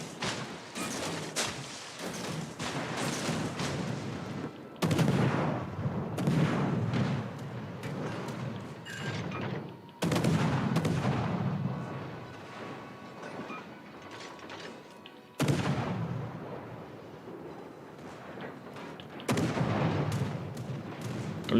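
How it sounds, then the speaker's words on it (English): Naval video game barrage from the destroyer Cossack, her 4-inch secondary guns firing alongside the main battery, heavy blasts arriving in rolling clusters every few seconds, each followed by fading rumble and mechanical clatter, with no talking. "At least the secondary guns joining in as well."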